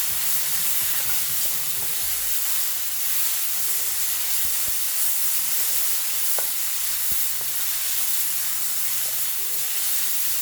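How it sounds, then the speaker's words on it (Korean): Paprika, mushrooms and boiled broccoli sizzling with onions in a pan, a steady loud frying hiss throughout with small stirring clicks and occasional clatters, no voices. "양파가 반투명해지면 아까 잘라뒀던 파프리카, 그리고 버섯, 그리고 아까 삶아뒀던 브로콜리를 넣어주겠습니다."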